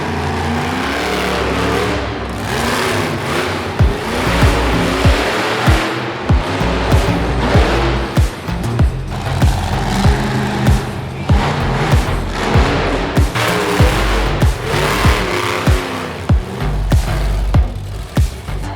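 Glow-in-the-dark monster trucks, including Bigfoot, rumble and rev loudly at a live show, with continuous engine roar and repeated heavy thumps and bursts.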